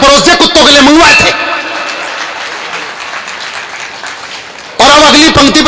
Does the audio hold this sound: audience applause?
yes